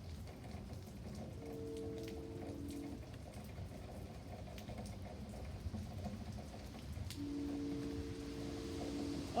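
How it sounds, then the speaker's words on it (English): During a severe thunderstorm, a far-off train sounds two long, low horn blasts that sit faintly beneath the steady hiss of heavy rain. "There's a train off in the distance."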